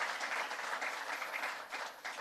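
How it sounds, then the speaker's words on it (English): Audience applause at a New England Council political breakfast event, a brief, fairly distant patter of many hands clapping at even strength with no talk over it. "Would you give him a round of applause?"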